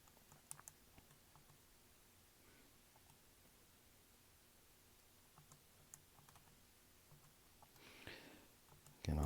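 Quiet, scattered key taps as values are entered one by one on a calculator, with a faint rustle near the end and no talking.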